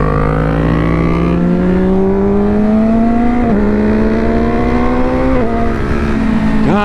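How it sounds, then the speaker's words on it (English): A Yamaha R6 motorcycle engine revs loud and close, its pitch climbing in steps as the quick shifter snaps through gears, each shift a quick dip before the next rising pull. "this quick shifter sounds so good"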